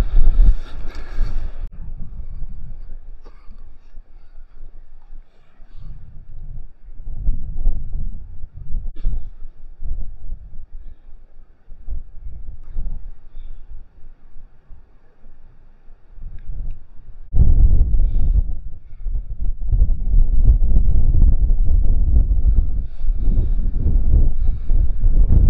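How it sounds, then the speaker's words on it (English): Strong gusting wind roars over the microphone on a North Yorkshire coastal clifftop, surging and easing in heavy rumbling buffets with no voices. "It's very, very windy up here."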